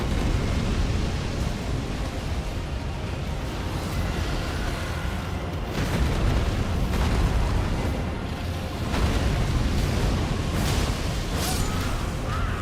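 A roaring fire breath attack in the video game Elden Ring, a broad, continuous rushing blast lasting throughout, with a few heavier booming swells rising and falling in waves.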